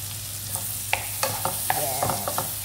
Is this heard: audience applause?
no